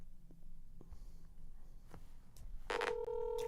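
A phone call being placed to a city hall in Shorewood, Illinois: faint taps and handling noises, then a loud burst of dialing tones followed by a steady electronic ringback tone, with no talking.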